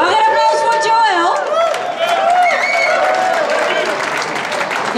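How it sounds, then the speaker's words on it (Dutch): Applause and cheering from an audience at an intimate live music session in a Haarlem venue, dense clapping with whoops and chatter, voices speaking over it near the end. "Mag een applaus voor Joël?"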